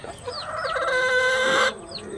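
Native chickens and a rooster in a backyard coop cluck and call close by, with a sustained crowing phrase rising over steady low farmyard noise.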